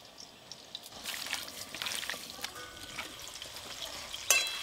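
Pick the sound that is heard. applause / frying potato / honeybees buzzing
frying potato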